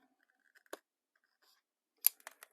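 Scissors snip through the binding threads of an old book being altered: one isolated crisp cut, then a quick cluster of three or four sharp snips, close and quiet with no talking.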